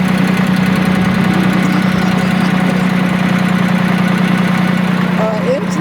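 A Porsche tractor engine runs steadily while driving, a loud, close, low chugging drone with a continuous knocking pulse, and a voice speaks over it.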